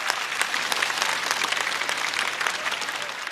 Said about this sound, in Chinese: 再次掌声送给菜菜